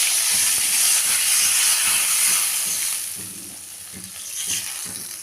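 Water is poured into a pan of hot oil frying green chillies, chilli powder and turmeric for a thin hilsa and eggplant curry. A loud, steady hissing sizzle fades slightly midway, with soft knocks and stirring underneath.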